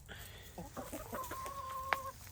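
Speckled Sussex and Wyandotte hens cluck softly in a series of short, quick notes, ending with one sharp, higher squawk, fairly faint over a low background hum.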